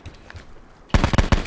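Gunfire in the video game Call of Duty Blackout: after a quiet stretch, a loud burst of several rapid, close shots rings out in quick succession.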